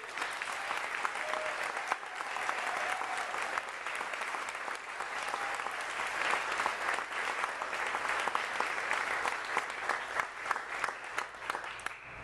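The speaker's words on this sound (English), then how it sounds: "let's have a round of applause for all the parents here tonight" Sustained applause from the audience at a PFLAG Atlanta awards dinner honoring the parents present, a dense, steady roar of many hands clapping throughout with no break.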